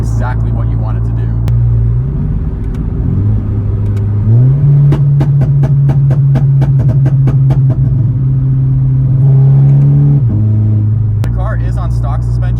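A Scion FR-S engine held at steady revs with a throaty, buzzing exhaust note that rises and falls a few times, punctuated by a rapid series of sharp pops and crackles from the exhaust.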